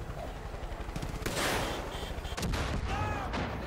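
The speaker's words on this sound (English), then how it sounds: "There you go, you blew up a vehicle." Heavy gunfire and a blast as a vehicle is shot up and blown apart in Far Cry 5, loud dense shooting with a sharp burst and ringing debris near the end.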